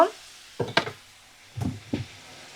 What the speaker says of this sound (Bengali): এই যে জিরে বাটা আমি দিয়ে দিলাম। তো ভালো করে দেখো নাড়াচাড়া করে নেব